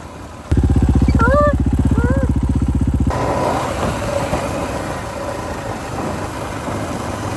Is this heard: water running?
no